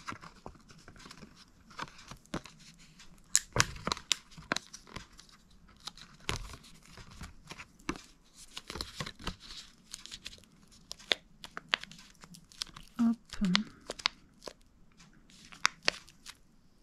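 Paper being folded and torn to make a junk journal pocket gives soft, close crinkles, creases and sharp little rips, scattered irregularly over a quiet background.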